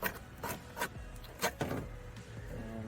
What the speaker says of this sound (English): when you're sanding aluminum